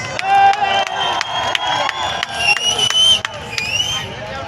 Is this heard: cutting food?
no